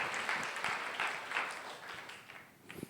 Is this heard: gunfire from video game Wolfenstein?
no